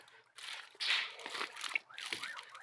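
A thin plastic keyboard protector film, included with a Lenovo Legion Y520 laptop, crinkles and crackles as it is handled close by, in short, quiet uneven bursts with brief pauses.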